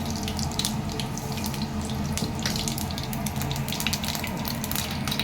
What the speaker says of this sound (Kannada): ಸಾಸಿವೆ ಪಟ ಅಂತಿದೆ